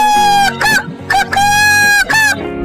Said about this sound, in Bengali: গাছের ডালে বসে একটি মোরগ গান গাইছিল।